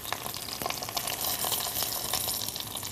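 Red or distilled vinegar hitting a hot pan for a gastrique, a continuous close hissing sizzle with crackling pops throughout.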